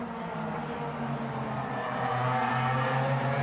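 Mitjet race cars battling on a straight at a race track, engines roaring continuously and building louder as they close in, no talk over them.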